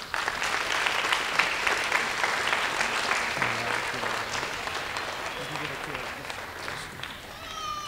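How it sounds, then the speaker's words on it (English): Audience applause for youth track coaches at the Brockton Youth Track Awards, brisk, continuous clapping at moderate loudness that eases off slightly toward the end, with faint voices mixed in. "give them a nice round of applause"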